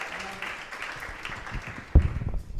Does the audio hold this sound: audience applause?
yes